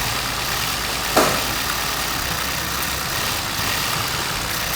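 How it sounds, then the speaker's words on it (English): A 2021 VW Tiguan engine running a rough, erratic idle with a faulty oil separator, droning steadily and loudly up close with one brief sharp hiss as the crankcase vent is covered. "I'm covering the vent, changing the idle."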